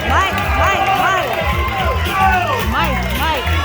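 Crowd at a pizza eating contest in Waterloo, New York, cheering and shouting encouragement together in loud, overlapping voices, a lively close-up roar of chanting and yelling.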